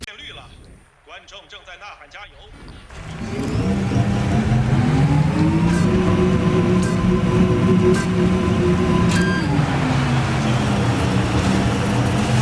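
An electric car in the racing game DIRT 5 speeds up with a rising, whining motor tone that holds loud and steady, then eases slightly, while someone talks over the opening seconds.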